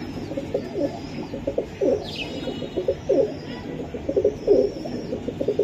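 Pakistani Teddy and Giribaz pigeons cooing at a pigeon seller's loft, repeated rhythmic coos in short bursts from several birds close by, with a brief higher chirp and faint voices in the background.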